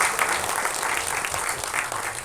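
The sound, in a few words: audience applause at a music event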